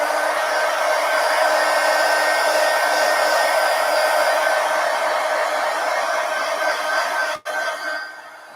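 A hair dryer blows steadily and loudly to dry fresh paint on an art piece, a continuous whirring roar that holds for about seven seconds before cutting off abruptly, leaving a brief quieter tail.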